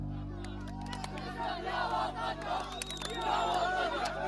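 A crowd out in the evening streets of Deir el-Balah celebrating a ceasefire, with many voices shouting and cheering together at a moderate distance.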